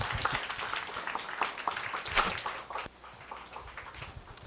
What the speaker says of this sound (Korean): 박수 많이 쳐주세요.